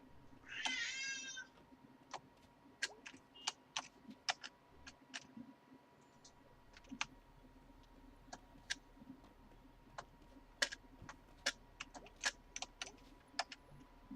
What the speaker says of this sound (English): Oh, that's a cat crying.